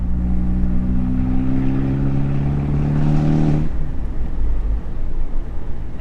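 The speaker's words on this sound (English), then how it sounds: "hopefully you can hear a bit of the exhaust sound coming through. This is a cold start." Exhaust of a Spider sports car on the move shortly after a cold start, a steady loud engine drone with strong low harmonics that drops off sharply partway through to a rougher, lower rumble.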